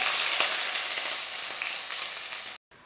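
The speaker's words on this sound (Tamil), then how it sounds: "சின்ன வெங்காயம் சேர்த்து ஓரளவுக்கு நல்லா வதக்கிடுங்க." Small shallots, peeled and halved, sizzle steadily in hot oil with mustard seeds for a fish curry, a dense close frying hiss with a few soft clicks before a brief cutoff near the end.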